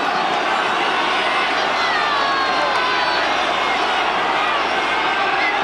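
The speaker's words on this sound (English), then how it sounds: "The crowd urging on the Welsh." A large rugby crowd at a Wales versus Argentina match cheers and roars in a dense, continuous wash of noise. It sounds distant and sustained, and a commentator's voice may sit faintly beneath.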